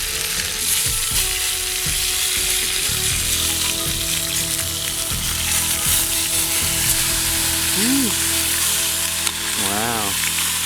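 Game hen searing in a cast iron skillet over a campfire, a steady close sizzle and frying crackle throughout, with a few faint tonal chirps in the background.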